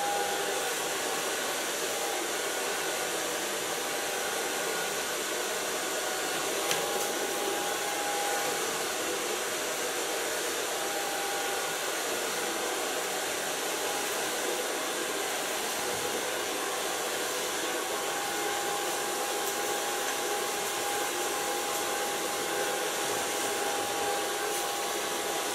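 A hair dryer runs steadily and loudly throughout while blow-drying long layered hair with a medium-large brush, a continuous airy roar with no breaks.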